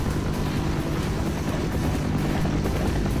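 A helicopter in the video game Counter-Strike drones steadily with a loud, continuous rotor and engine rumble that fills the whole stretch without pause or speech.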